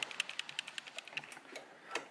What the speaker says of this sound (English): now we go to our sewing machine and we're gonna sew over it a few times